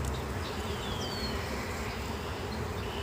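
Honeybees and large drone bees buzzing at an open hive during an inspection, a steady dense hum held at a constant level throughout with no talk.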